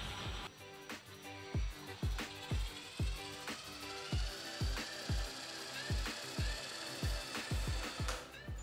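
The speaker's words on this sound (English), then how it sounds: "Mujtaba, can you rotate the alternator using the impact wrench" Impact wrench spinning a car alternator set up as a wind generator, heard as a steady mechanical whir with a regular, evenly spaced thumping pulse throughout, close and moderately loud.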